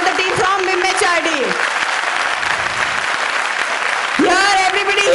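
Audience clapping for a team at an extempore speaking event, a sustained burst of applause with voices and brief speech at the start and end over the clapping.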